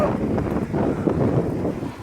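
Strong outdoor wind buffets the microphone as a steady low rumble with gusting swells throughout, while a person talks over it.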